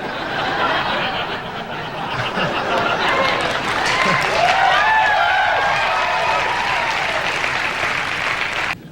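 A studio audience at a comedy news segment reacts with a mix of applause, scattered laughter and jeering, a steady crowd wash lasting several seconds before cutting off.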